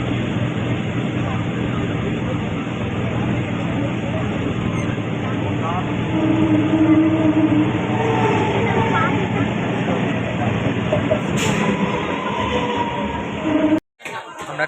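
A crowded passenger train runs along in India with a steady rumbling drone and rattling wheels throughout, while passengers talk in the background.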